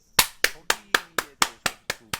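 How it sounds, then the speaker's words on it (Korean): Nine sharp, evenly spaced hand claps ring out one after another, loud and close, with no voices over them, as a crowd of political supporters celebrates a prosecution reform bill passing. "박수!"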